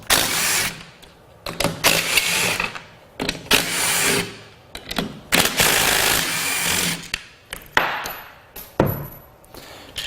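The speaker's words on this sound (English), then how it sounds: "we're going to undo these 4 12mm bolts" Four 12mm bolts come off the battery pack of a 2004–2009 Toyota Prius, heard as bursts of close, loud mechanical whirring and ratcheting broken by short pauses and clinks of metal.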